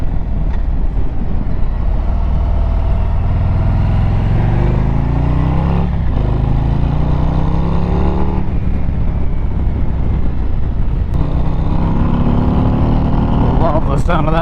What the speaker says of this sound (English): Love the sound of that engine. The exhaust note really opens up